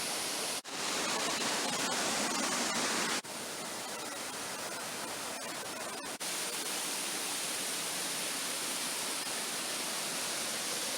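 A waterfall on the Rego de Palanca along a Galician hiking trail roars steadily and loudly, a dense, unbroken rush of falling water with a few abrupt shifts in level and no voices.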